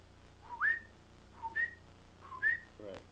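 A person whistles in imitation of a coqui frog's night call, giving three separate rising chirps at even intervals, near and clear over a quiet background, followed by a short sharp click.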